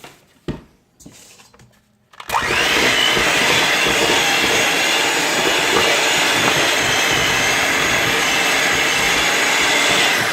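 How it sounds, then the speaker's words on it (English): An electric mixer creams butter for chocolate banana bread, starting after a couple of seconds of quiet handling noise and then running as a loud, steady, unbroken whir to the end. "I'm now going to cream the butter before I add my sugar to my 2 eggs."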